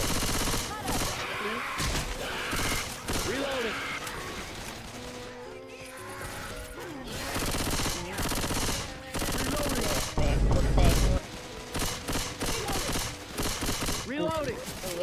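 Left 4 Dead 2 shotgun blasts mixed into a chaotic firefight, repeated loud bursts of shots near at hand, with excited talk running over the shooting throughout.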